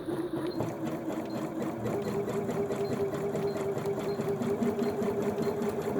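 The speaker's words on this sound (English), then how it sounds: "while I'm sewing, I'm going to bring this down and make it narrower and narrower" A Janome DC6050 sewing machine runs steadily through a zigzag stitch, its fast, even mechanical whir and rhythmic needle ticking continuing at close range without any voice.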